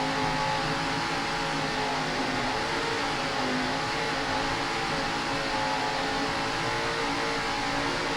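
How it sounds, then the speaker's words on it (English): Offshore racing powerboats with Mercury engines rev at the green flag of a 2002 World Championship race in Key West, Florida. A dense, continuous roar holds steady and loud throughout, with no voices. "And they just got the green flag, as you can hear, revving up."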